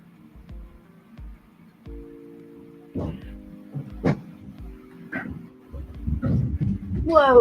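An excited pet dog whimpers and gives short yips close by, high whines rising through the clip, while people talk over the noise.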